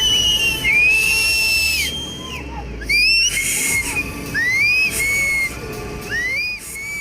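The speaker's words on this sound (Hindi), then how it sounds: "यहाँ एक नहीं, दो नहीं, बल्कि एक साथ सैकड़ों सीटियां सुनाई दे रही हैं" Many whistles blown at once by a crowd as a flood warning during the Uttarkashi cloudburst, shrill rising and falling tones overlapping in repeated bursts over a steady roar of rushing water.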